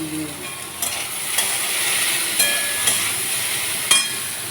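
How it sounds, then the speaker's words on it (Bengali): Potatoes fry in a pan with salt and turmeric for a spiced potato dish, giving a steady bright sizzle while a utensil stirs them with periodic scraping knocks against the pan, and no voices. "আলুগুলো একটু নেড়ে চেড়ে নিয়েছি"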